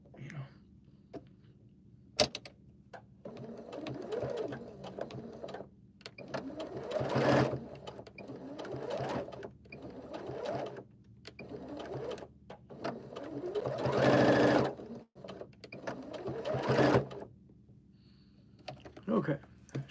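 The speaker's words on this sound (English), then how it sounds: "I just need to stitch that down so that it's kind of ready to go" A sewing machine stitching down fabric for a creepy horror puppet, running in several close bursts of rapid mechanical whirring separated by pauses, with soft handling noises between runs.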